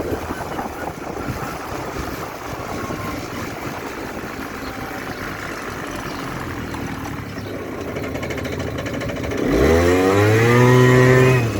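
A Kymco MXU 50 quad fitted with a Malossi 70cc kit, Malossi 19 carburettor and Narak variator, running with a steady buzzing two-stroke drone that rises into a loud revving climb near the end.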